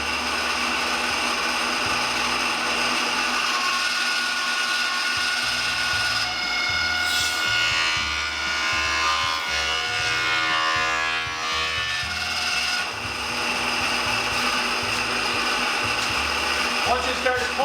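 Power planer feeding pallet boards, a continuous close mechanical whir with an uneven rumbling chatter as the wood pulls through and the blades bite, slight speech underneath.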